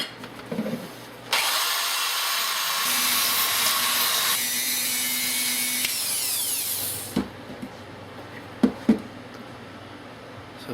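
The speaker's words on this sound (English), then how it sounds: "I'm going to start by cleaning up the brackets, get all the rust off" A power tool grinds rust off steel grille brackets from a 1957 Chevy pickup truck, a loud, steady high whine for several seconds that winds down, followed by a few sharp metallic knocks.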